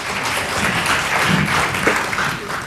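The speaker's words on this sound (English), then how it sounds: "Please give them an applause." A room full of people clapping steadily, dense and sustained applause throughout, fairly close.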